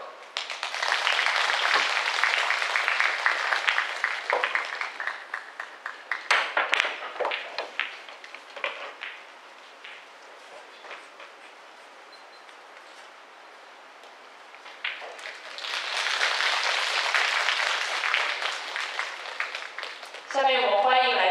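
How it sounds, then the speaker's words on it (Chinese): Audience applause at the 2019 World 9-Ball China Open billiards tournament, bursts of clapping that rise, fade to a hush in the middle and swell again, with an announcer's voice over the hall. "掌声欢迎来自乌克兰的选手 Katerina Provinchuk。"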